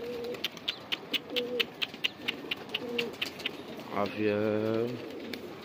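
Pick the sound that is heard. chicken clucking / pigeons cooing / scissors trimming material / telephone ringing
pigeons cooing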